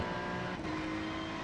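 Ferrari 296 GT3 race car in the iRacing video game at Fuji, its engine holding a steady, loud drone with a constant tone throughout.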